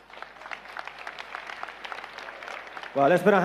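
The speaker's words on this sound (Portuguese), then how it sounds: "Vamos aplaudir juntos a Jesus Cristo." A church congregation at a deliverance prayer service applauds together, a steady mid-level patter of many hands lasting a few seconds before a voice cuts in loudly over the end.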